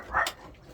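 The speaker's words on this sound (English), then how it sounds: "Sounds like the dog's found something." A single short dog bark, close and fairly loud, followed by a faint trailing whimper-like tail.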